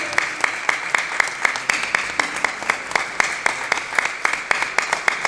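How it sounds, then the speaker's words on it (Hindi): Applause at a valedictory and certification ceremony for a Marma therapy training programme: a crowd claps in a steady, regular rhythm, each beat crisp and evenly spaced, sounding like synchronized rhythmic clapping rather than scattered applause. "इनके लिए और जोर से ताली बजनी चाहिए।"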